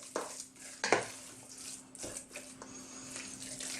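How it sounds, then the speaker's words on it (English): A spoon stirs a spinach and ricotta cannelloni filling in a bowl, giving a few scrapes and sharp clinks against the dish over a faint background hum, close and fairly quiet. "Give this a nice stir."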